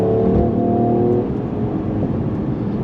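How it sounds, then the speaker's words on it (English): Mercedes-Benz CLS 53 AMG with turbocharged and supercharged engine and electric motor, accelerating hard in a steady, loud engine roar heard from inside the car, with no talking. "It's fast, and it didn't hesitate one bit. That turbocharged and supercharged and AC motor,"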